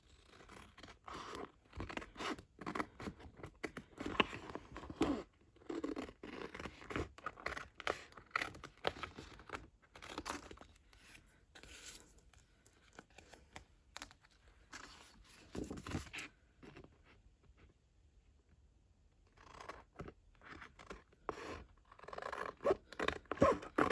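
Strip of thin metal sheet or tin foil being cut for faux metal craft tags, giving intermittent close crunchy snips and scraping with short pauses, with no voices.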